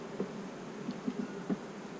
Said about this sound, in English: A lot of bees though.